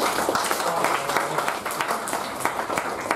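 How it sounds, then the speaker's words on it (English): An audience at a Toastmasters club installation meeting claps steadily, a dense run of many hands that carries on without a break, close and fairly loud. "I would like to give a big round of applause for President Toastmasters India"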